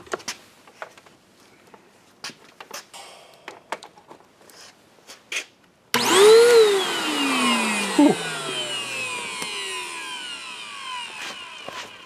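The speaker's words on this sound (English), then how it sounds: "I'm just checking to see if the motor itself is going to turn on" Handling noises and soft clicks come first, then a Bissell Powerforce vacuum cleaner motor switches on suddenly and runs loud and steady, its whine rising as it spins up and holding at a constant pitch to the end.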